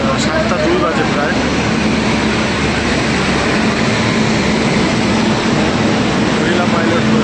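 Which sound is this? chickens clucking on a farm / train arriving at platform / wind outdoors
train arriving at platform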